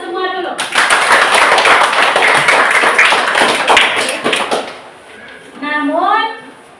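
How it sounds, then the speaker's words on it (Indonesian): Applause from a school class at a performance review, a dense burst of many hands clapping that lasts several seconds and then fades as a teacher's voice resumes. "Kita berikan aplaus untuk kita semua dulu"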